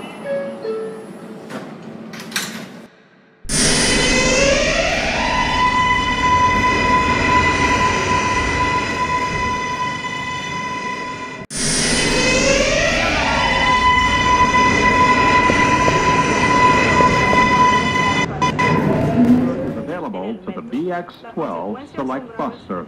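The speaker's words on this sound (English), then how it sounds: "This is a Manhattan-bound 4 train." A Manhattan-bound New York subway 4 train runs loudly, with a sustained rising motor whine and rumbling wheels over two long stretches, broken by a brief drop and a recorded announcement voice near the start.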